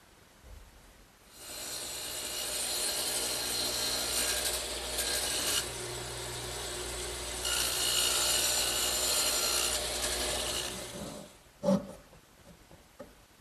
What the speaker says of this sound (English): I'll cut the thickness using my radial arm saw and the dado head cutter